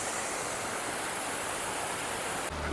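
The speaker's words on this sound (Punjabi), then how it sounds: "ਆ ਦੇਖੋ ਪਹਾੜਾਂ ਦੇ ਨਾਲ ਨਾਲ ਦੇਖੋ ਪਾਣੀ ਆਉਂਦਾ" Water rushes in a constant, loud broadband wash, like a fast stream flowing close by, with no other sounds; a mountain stream on the route to Hemkund Sahib.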